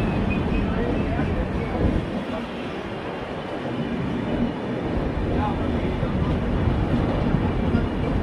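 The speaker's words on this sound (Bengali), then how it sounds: "16টা কোচের 3 টায়ার এসি, 2টা স্লিপার, একটা পেন্ট্রিকার, 2টা ইওজি নিয়ে চলছে এই ট্রেনটা" A passenger train of 16 coaches, with three-tier AC and sleeper coaches, a pantry car and two EOG cars, rolls along the rails with a steady, loud, continuous rumble and rattle that holds for the whole stretch.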